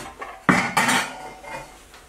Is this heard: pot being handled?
yes